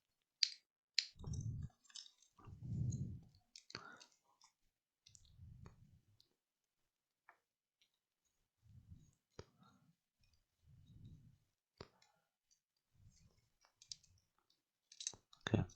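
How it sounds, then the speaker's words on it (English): Small screws being backed out of a Nintendo Switch Joy-Con controller, giving sparse faint clicks and soft scraping taps spread at uneven intervals across a quiet close-up workbench. "So we're just going to undo those screws."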